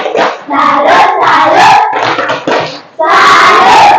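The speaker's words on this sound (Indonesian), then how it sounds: "Tepuk salut." A class of students performs a patterned 'tepuk salut' clap together, loud bursts of clapping in short rhythmic groups mixed with shouted voices, a brief pause, then a final strong burst.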